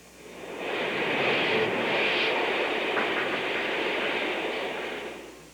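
Number 6, a 1910 Baldwin consolidation steam locomotive, hauls a mixed train on a Southern shortline, producing a steady rushing roar that swells in, holds for several seconds, then eases off. No one speaks over it.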